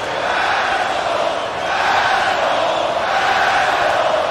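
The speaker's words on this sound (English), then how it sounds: "Listen to the crowd as they just go off." A packed crowd at a live wrestling event roars and cheers continuously, a loud dense wall of voices that swells slightly in waves throughout.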